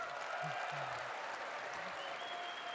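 A crowd at a political rally in Kitchener applauds steadily, a dense wash of clapping close and sustained, with a voice briefly audible underneath.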